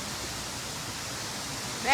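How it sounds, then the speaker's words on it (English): Broad steady rushing roar of a waterfall at a resort, heard from a boat, constant and fairly loud throughout with a slight swell at the end. "Look at that waterfall, guys."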